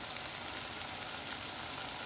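Okra and onion frying in a pan, a steady soft hiss and crackle of sizzling oil, fairly faint and continuous, no talk.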